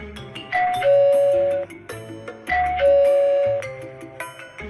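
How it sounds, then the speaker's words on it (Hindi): A doorbell chimes twice in a row, each a clear two-tone ding-dong ringing out loudly against a quiet room. "ऐसे कुछ देर के बाद डोरबेल बजा।"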